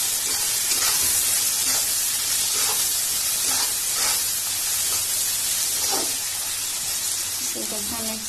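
Vegetable chow mein being stir-fried in a pan just after coriander powder goes in, a steady broad sizzle and hiss with occasional scraping stir strokes, continuous and close.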